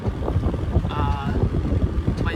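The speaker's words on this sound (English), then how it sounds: "this wind is pretty bad" Wind gusting over a sailboat on Puget Sound in roughly 10 to 11 knots, a close, loud rumble of buffeting air against the microphone with choppy water noise, steady for a few seconds.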